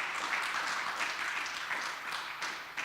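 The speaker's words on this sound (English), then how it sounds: "and I will ask for applause for them." An audience at the Western Balkans Summit 2024 applauds the panelists after a panel discussion, a dense, continuous crowd clapping with a few louder swells, heard alone without talk.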